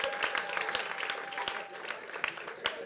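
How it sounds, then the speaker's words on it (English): Crowd at a comedy show in a hotel applauding: a fairly quiet, dense patter of clapping with a few louder claps popping out, and a hint of voices beneath. "Give me a round of applause."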